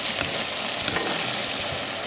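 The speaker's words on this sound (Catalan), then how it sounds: "A l'all amb l'oli fregidet, els bolets congelats i mireu com estan." Frozen mushrooms sauté in oil with garlic in a pan, a dense, even crackling sizzle with light stirring scrapes, steady and close with nobody talking.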